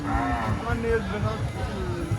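A cow moos at a cattle market in Rustampur, Rajshahi, giving one drawn-out, wavering low call close by, with market noise in the background.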